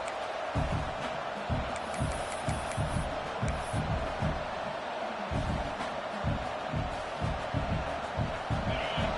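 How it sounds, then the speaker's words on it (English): Football stadium crowd noise during a game as the defense tries to get a stop, a steady roaring wash of many voices with rhythmic low thumps like stomping or clapping throughout, sustained and fairly loud. "this crowd coming to life here, trying to help the defense get a stop with the offense pinned back"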